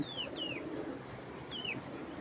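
A pair of medium-sized, round-bodied female racing pigeons cooing softly, with a few thin high chirps rising over a steady low murmur of coos.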